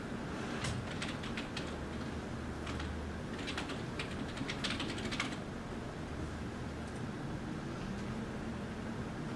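Typing on a computer keyboard while entering a username into sync settings, quiet clusters of soft key clicks in short bursts over a steady low background hum, with no talking.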